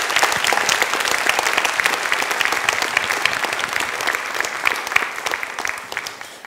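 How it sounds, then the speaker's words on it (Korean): A talk audience gives a round of applause, loud continuous clapping from many hands filling the whole stretch, close and even, with a few sharper individual claps standing out. "please give me a round of applause"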